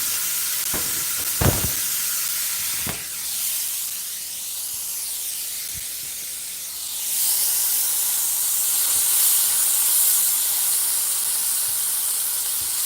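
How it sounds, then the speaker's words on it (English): Frozen onions frying in butter in a home kitchen give a steady close hiss and sizzle, with a few sharp clinks near the start and the frying swelling louder partway through. "See how the onions just really took up all the butter?"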